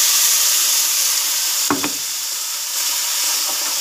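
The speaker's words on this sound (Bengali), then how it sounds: "এবার ব্লেন্ড করে রাখা মশলাটা দিয়ে দেবো," A blended spice paste hits a frying pan with browned onions and tomatoes, giving a steady loud sizzle with a sharp burst and a couple of quick clatters near the middle.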